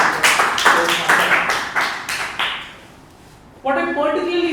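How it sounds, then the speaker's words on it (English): Applause from a small audience at a Toastmasters club meeting, a few seconds of sharp, distinct hand claps fading out, then a voice begins speaking. "let's give a good round of applause to our Toastmaster"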